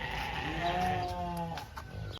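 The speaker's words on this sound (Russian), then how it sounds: "Баранчики." Sheep at a lion park safari bleat in a long, quavering call heard at moderate distance over a constant hum of background noise, fading out toward the end.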